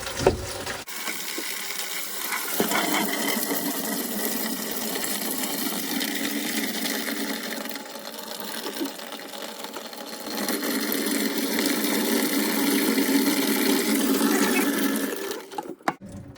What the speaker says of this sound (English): now that all that water is drained out